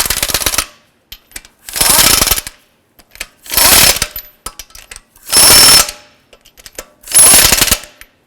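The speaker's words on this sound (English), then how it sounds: "I'm going to go ahead and snug up these lug nuts" Impact wrench snugging wheel lug nuts on a 2005-2012 Honda Civic, five loud rattling bursts of about a second each separated by short pauses, close by with no talk.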